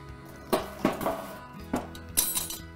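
Cast iron Dutch oven being set onto hot coals outdoors, with several sharp metallic clanks and clinks of the heavy pot and lid landing among coals, close and alone.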